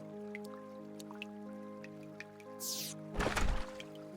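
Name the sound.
water flowing in through doors in Terraria video game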